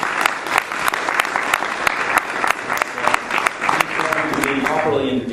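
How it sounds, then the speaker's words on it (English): Lively clapping from a lecture audience, a dense patter of many hands that continues steadily and begins to thin out toward the end. "why don't we give our visitor, Mr. Kramer, a big round of applause and welcome."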